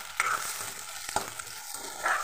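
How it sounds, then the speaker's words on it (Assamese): An egg drops into a wok of onions frying in mustard oil, giving a close, continuous sizzle with several sharp spatula scrapes and stirs, and no voices. "ইয়াতে দি দিলোঁ কণীটো,"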